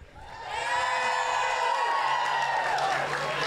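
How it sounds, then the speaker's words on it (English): A large crowd at a community celebration for Olympian Ilona Maher erupts in loud, sustained cheering and whooping, swelling quickly and holding before easing slightly at the end. "What a crowd!"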